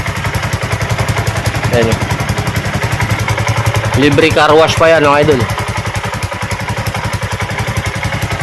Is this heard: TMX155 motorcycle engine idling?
yes